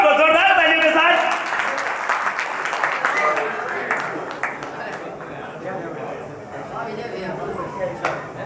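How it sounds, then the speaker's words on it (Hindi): Audience applause at a large Hindi poetry gathering (kavi sammelan), steady clapping from many hands that starts strong and thins out, with a speaking voice over it at the start. "जोरदार तालियों के साथ।"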